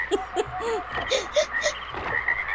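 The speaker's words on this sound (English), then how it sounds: "Distracting frog noises." Croaking frogs in the video game Myst: a run of short, twangy, pitch-bending croaks a few tenths of a second apart, close and fairly loud over a steady high chirping chorus, with nobody talking.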